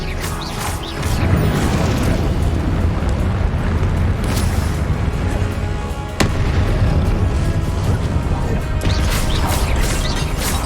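Fiery spell blasts in the video game Hogwarts Legacy: continuous loud, dense rumbling explosions and crashes with a sharp burst near the middle, layered with busy combat effects and no speech.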